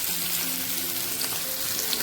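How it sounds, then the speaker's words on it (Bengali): Taro and spice paste with ginger and green chili sizzling in a fish curry pan, a continuous even hiss of bubbling liquid and oil heard close up. "মাছের ঝোলের মধ্যে মশলা বাটাটা দিয়ে দেওয়া হলো"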